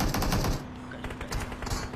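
Automatic gunfire in the PUBG Mobile video game, a rapid burst of loud shots for half a second followed by further scattered bursts, close and harsh against a steady background hum.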